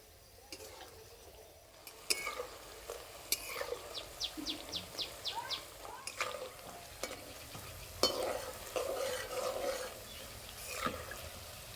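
Potato slices for crisp homemade chips frying slowly in hot oil, a soft steady sizzle with occasional stirring clatters and background bird chirps, no talking.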